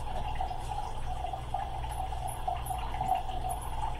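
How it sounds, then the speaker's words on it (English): Tap water runs steadily into a pitcher during pressure canning prep, a continuous hissing flow with a low hum beneath it, close and even, with no talking. "Okay, I'm filling up my last pitcher of water."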